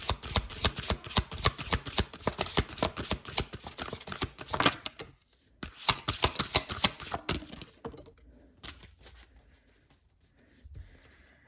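Tarot cards being shuffled up close: rapid, dense riffling and flicking in two long bursts with a brief pause between, then fading to softer, scattered card sounds.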